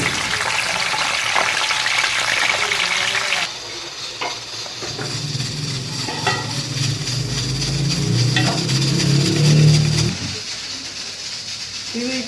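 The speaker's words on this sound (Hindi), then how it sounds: "वही अब इसमें हम गोश्त डालेंगे, इसको फ्राई करेंगे" Goat meat frying in a pan for restaurant-style bhuna gosht: a steady hiss that swells into a louder, fuller sizzle partway through, with soft stirring scrapes, then drops back near the end.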